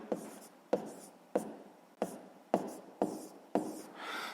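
Pen writing numbers on paper: seven quick scratchy strokes at a steady pace, each starting with a small tap, close and quiet, then a softer, longer rub at the end.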